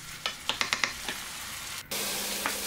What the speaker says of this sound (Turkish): Zeytinyağında kıyma ve soğanları kavuracağım.